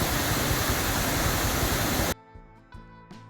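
Small roadside waterfall on the way to Munnar, a loud, dense, steady rush of falling water that cuts off abruptly, leaving only quiet background sounds with a few faint clicks.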